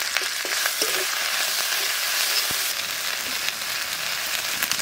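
Dried red chillies and cumin seeds frying in hot oil, a steady loud sizzle with small crackles and pops throughout, close and with no talk.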